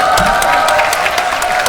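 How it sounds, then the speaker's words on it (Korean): Audience applause mixed with cheering fills a hall at a world Korean-language speech contest for foreign speakers, a steady dense roar of clapping and voices throughout. "여러분 큰 함성과 함께 박수 한번 쳐주십시오"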